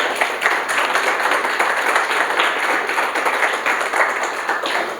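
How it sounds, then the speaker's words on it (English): Steady applause from a conference audience at the FIS-Forum 2024, many hands clapping densely and evenly for several seconds with no voices on top. "Applause, please."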